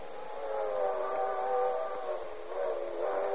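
A circus train's steam whistle sounds in one long, steady, sustained blast, moderately loud and alone, with a slight swell near the end.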